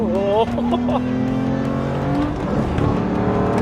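A manual BMW M3 with over 600 horsepower accelerates hard in third gear, its engine note loud and close, rising and droning steadily, with a voice speaking over it.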